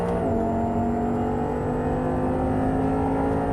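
An Audi R8 engine accelerating on a racetrack produces a loud, steady, sustained drone whose pitch climbs slightly as the throttle opens, with no talking.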